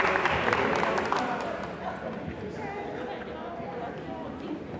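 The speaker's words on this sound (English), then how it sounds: "So if you can just stand up and we give you a round of applause" A round of applause from the audience at a summer academy closing ceremony for the staff, dense clapping that swells early and then settles into a steady, slightly softer wash.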